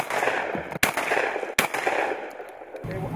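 Two sharp shotgun blasts go off about a second apart during a quail hunt in open country, each loud and sudden over a steady outdoor background.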